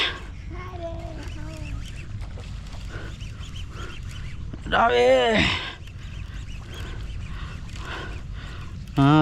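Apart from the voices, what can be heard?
chicken clucking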